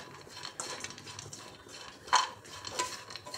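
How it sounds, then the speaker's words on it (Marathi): Dry dates roasting in a pan over a low flame give off faint scraping and light metallic clinks from a stirring utensil, with one sharper clink partway through. "लो फ्लेमवरतीच भाजून घ्यायची आपल्याला"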